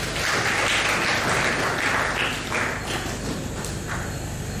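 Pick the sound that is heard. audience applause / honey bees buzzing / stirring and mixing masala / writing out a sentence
audience applause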